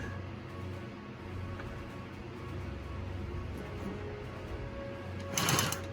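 A Fusion high post sewing machine stitches a wig in a steady mechanical hum that runs throughout, ending in a short louder burst of whirring near the end.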